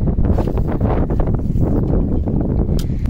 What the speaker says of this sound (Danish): Som vi måske kan høre, så har vinden ikke lagt sig.